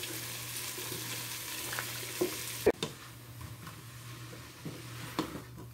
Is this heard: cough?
no